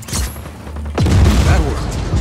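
Fuel barrels blowing up in the Just Cause 4 video game, a loud deep boom with a falling rumble after a lighter crackle, brief and close.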